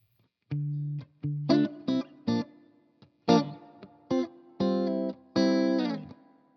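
Electric guitar, a Strat, plays a slow run of picked notes and chords through a Strymon Iridium on spring reverb, each ringing out with a splashy, springy reverb tail between phrases.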